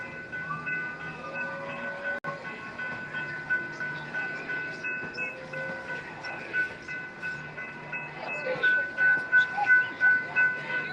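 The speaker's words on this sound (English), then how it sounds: "Oh, the train is coming." A light rail train in Charlotte, North Carolina rumbles past close by during a protest, its wheels clacking rhythmically while a bell-like tone rings out and background chatter continues.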